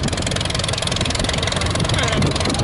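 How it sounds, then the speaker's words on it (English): A 1938 Farmall F20 tractor engine runs steadily at close range, a dense, continuous chugging rumble with even texture throughout and no clear speech over it. "Next is a 1938 Farmall F20"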